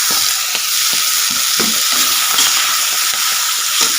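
Potatoes with spinach, onion and turmeric frying in a pan, a steady loud sizzle with occasional stirring scrapes and clinks, close up, no talking.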